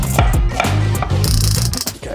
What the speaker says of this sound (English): Chopping the onion, I always make it flat so it doesn't roll around.